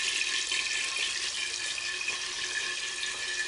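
Water runs steadily through a larger bypass pipe in an aquaponics greenhouse, diverting flow around the grow bed and a strawberry planter; a continuous hissing, splashing rush, close and even, with no talk.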